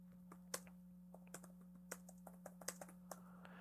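Quiet, irregular clicking of typing on a computer keyboard, a string of light close keystrokes over a steady low electrical hum, with no voices.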